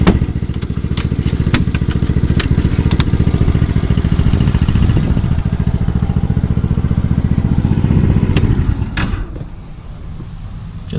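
A 125cc engine in a mini Jeep Rubicon runs close by with a steady, chugging, rapid-pulse drone that stays loud and even. It is joined by a few sharp clicks, then settles to a lower idle near the end.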